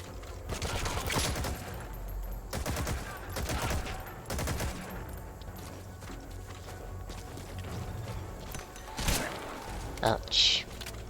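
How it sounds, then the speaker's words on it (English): Shotgun gunfire in Metal Gear Solid V: The Phantom Pain: several loud, sharp blasts in quick irregular bursts over steady background game ambience, with a few more shots later on. "Shotguns."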